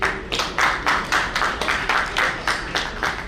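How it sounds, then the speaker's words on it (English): Hall audience applauds at a national convention's technical session, a sparse run of distinct hand claps recurring roughly every third of a second, close and moderately loud with no voices over it. "May we have a huge round of applause for him."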